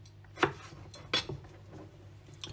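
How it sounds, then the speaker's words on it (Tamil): A knife cuts fresh mango into small pieces for a milkshake, giving a few sharp, close taps and clicks against a board or dish, scattered across a quiet moment. "ரொம்ப வந்து கட் பண்ணி கொண்டிருக்கோம் சின்ன சின்னதாக"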